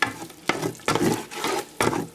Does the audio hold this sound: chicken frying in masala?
yes